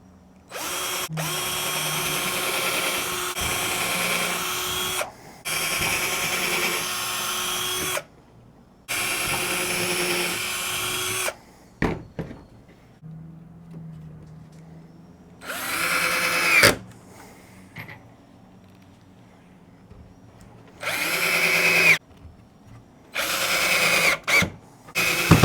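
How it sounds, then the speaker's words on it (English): A power drill pre-drills holes in the wooden trim board and angle iron of a homemade no-till crop crimper deck, running in several loud, sustained bursts of a few seconds each, separated by short pauses and faint clatter. "pre-drilling the holes"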